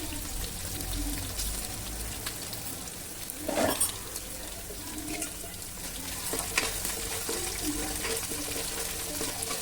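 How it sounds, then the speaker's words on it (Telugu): Onions and green chillies fry in a pan for chicken biryani, giving a steady, close sizzle with soft crackle. A brief louder clatter or stir comes about a third of the way in. "పచ్చిమిరకాయలు వేస్తాం. ఉల్లిపాయ కూడా బాగా వేగాలి."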